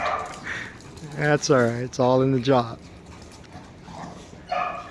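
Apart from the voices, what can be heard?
dogs barking while playing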